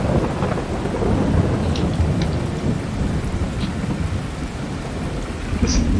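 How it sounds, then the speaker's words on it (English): Thunder with steady rain in the video game Farming Simulator 22, a deep low rumbling roll under a constant hiss of rainfall on surfaces, loud and continuous without speech. "This thunder sounds fantastic. It's got this beautiful bass roll to it."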